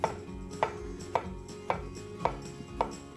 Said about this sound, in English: let's cut these up now. Probably go like so, and cut them fairly thin.